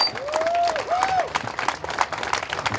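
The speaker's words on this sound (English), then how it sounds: "please give a big round of applause to Colton, who did this" Crowd applause at an outdoor political rally at the Lincoln Memorial, a steady wash of clapping sustained throughout with a brief whistle-like tone early on.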